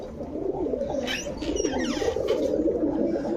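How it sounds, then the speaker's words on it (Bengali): Pigeons coo repeatedly in soft, low, rolling calls close by, layered over one another in a continuous murmur. "এগুলো সব কবুতর ভালো ভাই।"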